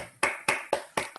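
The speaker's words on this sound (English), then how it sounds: "let's all unmute our phones and give Timo a clap" Four or five sharp, evenly spaced claps from an online audience over phone connections, each a bright broadband burst that decays quickly, ending with a smaller tap.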